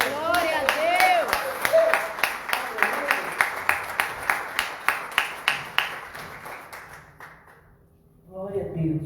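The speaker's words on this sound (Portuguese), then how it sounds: "Uma salva de palmas para o Senhor" A church congregation claps in a steady rhythmic beat that slowly fades into quiet, with a voice speaking over the start and again at the end.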